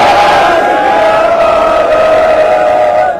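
A large outdoor rally crowd roars a long, sustained Sikh slogan response in unison, loud and continuous, fading slightly at the end.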